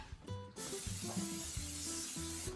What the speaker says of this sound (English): spray the pan away from the flame